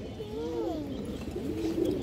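Soft, close cooing from a pair of silver and black Bagha pattern pigeons, a few rolling, warbling coos that rise and fall while faint background noise runs underneath.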